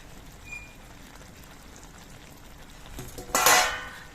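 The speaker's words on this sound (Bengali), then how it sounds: "এবার এর মধ্যে আমি ভেজে রাখা মাছগুলো দিয়ে দিচ্ছি" Fried amudi fish tipped into a pan of cooked vegetables, a soft rustle followed by a louder brief sizzling clatter near the end, close by in a quiet kitchen.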